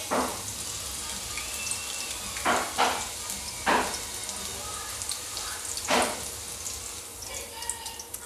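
Finely chopped green chillies fry in oil for a fasting potato chivda, a steady soft sizzle punctuated by a few louder spattering bursts, heard close with no talk.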